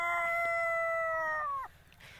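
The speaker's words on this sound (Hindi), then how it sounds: "यहाँ मेरे देसी मुर्गियाँ भी हैं और उधर कड़कनाथ का मुर्गा है" A Kadaknath rooster crows one long, loud cock-a-doodle-doo close by, with faint farmyard noise after it fades.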